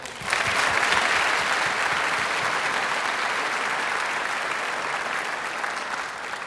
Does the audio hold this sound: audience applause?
yes